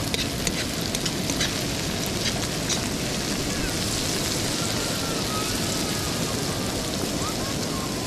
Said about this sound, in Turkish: Sıslama sesini duyuyor musun?